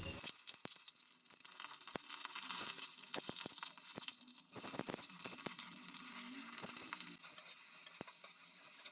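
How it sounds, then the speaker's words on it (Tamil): Onions sautéing in hot oil with garlic and curry leaves for prawn gravy, a soft continuous sizzle punctuated by scattered spatula scrapes and taps, fairly faint and close, without talk. "அது பொரியும் போதே நம்ம அரிஞ்சு வச்சிருந்த வெங்காயத்தையும் போட்டு நல்லா வதக்கிக்கலாம்"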